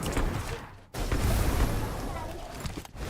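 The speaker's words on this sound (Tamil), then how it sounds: "அவங்க சுட்ட புல்லட் சவுண்ட் கேக்குது" Rapid bursts of gunfire from a bot squad battle match in a mobile shooter, loud, dense and continuous with a brief gap near the first second, with other shots and game noise overlapping throughout.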